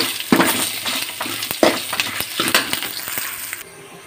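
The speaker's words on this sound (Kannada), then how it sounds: "ಹಾಗೆ ಸ್ವಲ್ಪ ತೆಂಗಿನ ಎಣ್ಣೆ ಹಾಕ್ಕೊಂಡು ಹುರ್ಕೊಳ್ತಿದ್ದೇನೆ" Whole spices and cinnamon bark roasting for a sambar masala in coconut oil, stirred in a pan: steady close frying sizzle with repeated scraping stir strokes, ending in a quieter tail.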